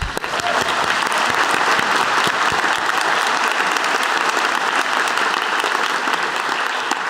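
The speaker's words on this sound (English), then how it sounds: "Clap for yourselves." Sustained, dense applause from a large crowd of graduates at a university convocation ceremony in 2014, loud and even throughout with no break.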